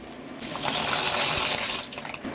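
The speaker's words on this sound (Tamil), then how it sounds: "இப்போ சுடு தண்ணியில் பாஸ்தாவை சேர்த்துக்கலாம்." Dry pasta is tipped into a pot of hot water while cooking a spicy masala vegetable macaroni, giving a brief close rush of splashing and bubbling water that swells and fades within a couple of seconds.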